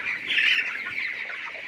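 Chickens at a poultry farm keep up a steady, fairly loud stretch of squawking and clucking chatter with no voices over it.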